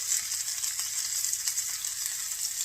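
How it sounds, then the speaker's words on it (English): Butter sizzles in a hot pan beside steak, a steady, bright, crackling hiss with small pops that stays loud and close throughout, with no voices. "Just going to throw a little bit of butter here on each side of the pan"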